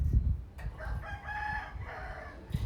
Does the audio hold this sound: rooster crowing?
yes